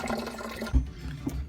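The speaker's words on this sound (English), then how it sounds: "Now you can use a funnel to pour it into the bottle." Liquid poured through a funnel into a bottle held over a kitchen sink, a brief gurgling, splashing trickle with a soft thump partway through, close and moderately loud.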